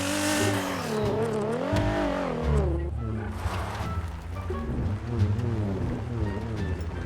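A V12 car engine in GTA 5 revs with harmonic tones climbing and falling in waves, loud and continuous, with bursts of acceleration amid a low rumble.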